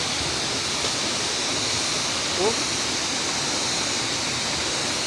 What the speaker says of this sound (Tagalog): Pero lakas talaga ng tubig, oh.